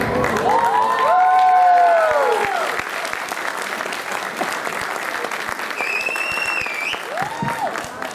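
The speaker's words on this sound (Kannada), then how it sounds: "ಮತ್ತೊಮ್ಮೆ ಬರಲಿ ಜೋರಾದ ಚಪ್ಪಾಳೆ" An audience claps loudly and steadily after a dance performance at a Kannada Rajyotsava celebration in Hamburg, with cheers and shouts rising through the dense, continuous applause.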